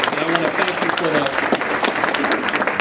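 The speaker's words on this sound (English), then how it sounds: "let's give ourselves a round of applause for that work" Loud, dense applause from a panel audience fills the space continuously, with a voice speaking over the clapping throughout.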